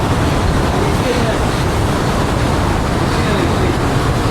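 Gokak Falls waterfall roars as a steady, dense wash of rushing water, loud and unbroken throughout, with wind buffeting the microphone.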